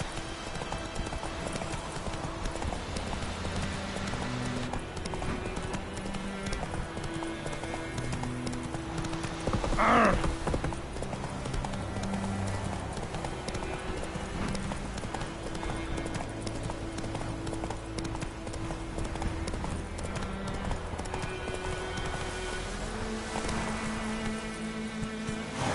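A horse gallops steadily in The Witcher 3: Wild Hunt, a constant drumming of hooves under a music bed, with a loud neigh around the middle.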